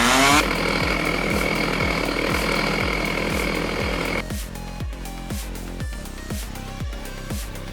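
A chainsaw runs at a dizzying height about 35 meters up a tree, buzzing loudly and steadily before dropping to a lower, choppier idle with rhythmic pulses partway through.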